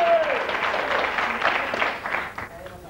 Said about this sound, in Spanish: Venga, un aplauso para John